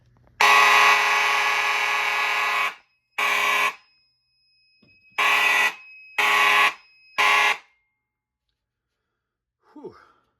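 Silent Knight fire alarm system with a 2400 magnet horn sounding during a test: one long loud buzzing blast followed by four short bursts, then silence and a faint exhale.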